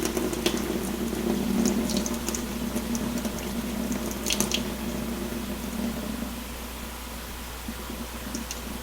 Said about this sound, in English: I'm going to fill it back up with a little bit of cold water and rinse it real good, rinse it